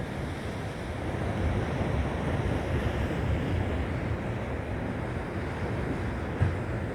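A calm sea washes gently against coastal rocks at Palos Verdes, a steady soft rush of surf with light wind and no sharp breaks.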